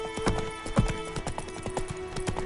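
The horse Roach gallops in The Witcher, its clip-clop hoofbeats striking in a quick, steady rhythm, close and moderately loud.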